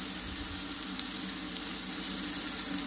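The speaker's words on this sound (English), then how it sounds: "My onions frying off." Onions sizzle and fry steadily in a pan for a wild rabbit stew, giving a soft, continuous crackling hiss with a few tiny pops, fairly quiet and close with no talking.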